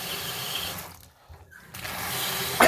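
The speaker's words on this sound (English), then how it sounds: "rinse it really well" Tap water runs steadily over New Mexico red chile being rinsed, pauses briefly midway, then flows again, close and without talk.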